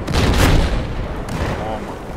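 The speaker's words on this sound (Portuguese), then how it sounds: "Lá vem um tanque aqui, ó." A tank explosion in the video game Battlefield 4 booms loudly in one broad, rumbling blast that decays into a rough, noisy tail.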